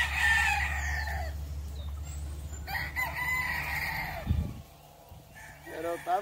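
Hens in a poultry yard, some of them moulting, cluck and call near and faint over a low steady hum, with a person speaking among them.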